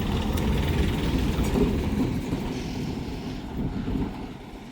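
A farm tractor engine rumbles along a dirt road, a loud, low continuous drone that is strongest at first and then eases slightly as it moves past, with no talking.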